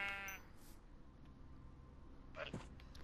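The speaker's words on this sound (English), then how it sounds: "Ooh, I found 3 sheep." Sheep bleating in the Minecraft video game: a short series of close, wavering blocky bleats near the start, followed by quieter game ambience and a faint later bleat.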